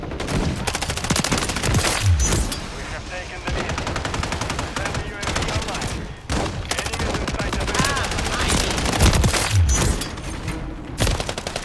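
Dual pistols fire rapidly in a Call of Duty match, a loud, near-continuous stream of overlapping shots and impacts with brief pauses, while players talk excitedly over the gunfire.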